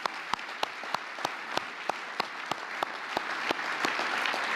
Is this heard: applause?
yes